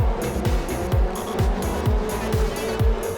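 Late model race cars at Kingsport Speedway roar past one after another in a rhythmic series of loud engine sweeps, tires squealing through the corners.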